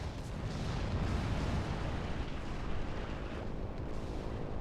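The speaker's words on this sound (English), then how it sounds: "that is a fairly effective strafing run" Fw 190 fighters making a strafing run in the war game Order of War, a dense continuous roar of gunfire and explosions blending into a heavy rumbling wash, distant-sounding and unbroken, with no speech.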